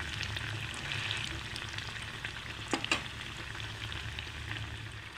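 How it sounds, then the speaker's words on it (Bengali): Khesari lentil fritters fry in hot oil, giving a steady, faint sizzle throughout with a couple of brief sharper crackles near the middle, with no voices. "বড়াগুলো ভাজা হয়ে গেছে"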